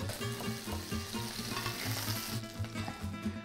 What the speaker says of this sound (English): And now I scoop over the butter over the fish continuously.